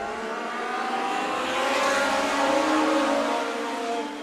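Legends race cars running together at Stockton 99 Speedway, a loud layered engine roar with several overlapping engine notes that swells as the pack passes close.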